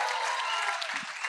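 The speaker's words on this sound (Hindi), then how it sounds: "ताली बजाओ इन लोगों के लिए एक बार, दोनों के लिए" An audience at a film trailer launch event claps in dense, continuous applause, loud and close, filling the whole brief moment.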